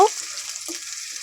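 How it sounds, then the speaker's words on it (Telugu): Green chillies and onion stir in hot oil for a chicken curry, giving a steady, close frying sizzle with a brief utensil clink at the start and a soft scrape partway through. "ఆయిల్ వేసి తర్వాత అయితే పచ్చిమిర్చి ఎర్రగడ్డ అయితే వేసి మొత్తం అయితే కాసేపు అయితే కలుపుకుందాము"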